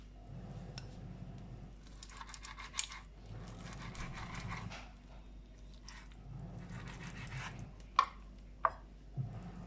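A knife slices raw chicken breasts into strips for crispy chicken strips, with soft squishy cutting strokes in slow repeated bursts, close and fairly quiet, ending with a few sharp knocks on the board.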